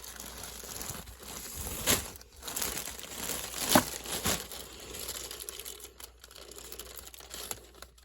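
A plastic bag of potting soil is handled up close, with soft crinkling and rustling throughout and a couple of sharper crackling bursts, no speech.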